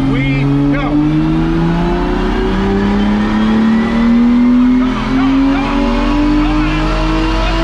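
A car engine drones steadily at high revs on a dynamometer, its pitch slowly climbing, loud and close, with people talking over it.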